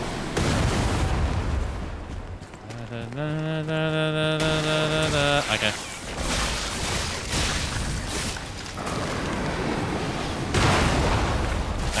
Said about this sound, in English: As we got somebody with a cannon shooting at us.